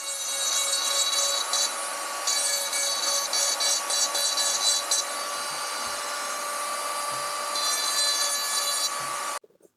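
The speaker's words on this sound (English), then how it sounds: "So I take a Dremel to it and smooth it all out." A Dremel rotary tool grinds a gouged drum brake plate from a classic British motorcycle, a close, high-pitched whine with rough grinding passes that rise and fall in intensity before cutting off.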